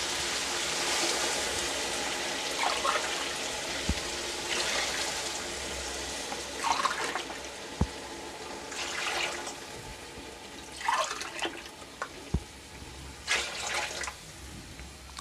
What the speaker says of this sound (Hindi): ये 4 गिलास पानी डाल दिए मैंने इसमें।